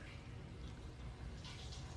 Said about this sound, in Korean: 물소리가 들리네요